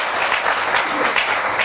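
An audience at a religious darbar gathering claps together, a dense, steady burst of applause from many hands.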